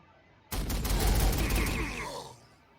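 Sudden burst of rapid gunfire from Warhammer 40,000: Sanctus Reach, a dense crackling volley lasting about two seconds before tailing off, loud and close over a quiet background.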